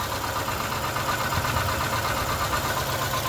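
A 2003 Nissan Sentra 1.8L engine idles rough with a misfire, a steady close-up mechanical chatter with an uneven, shaky pulse under the hood and no talking.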